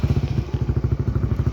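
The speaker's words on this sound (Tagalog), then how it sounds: "Start ko muna yung motor boss." A motorcycle engine starts and runs at a hangout spot. It makes a loud, steady, rapid chugging pulse that stays even throughout, with no talking.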